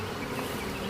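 Honey bees buzzing around a new hive: a dense, steady drone of many wings close to the microphone, continuous and unbroken with no voices.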